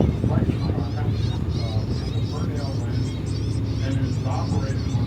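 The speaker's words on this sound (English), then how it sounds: "Hear the birds?" Geese and other birds honk repeatedly near a working lighthouse on Chesapeake Bay, heard from a tour boat. Their calls are moderately close and come over a steady engine and wind rumble, with people talking throughout.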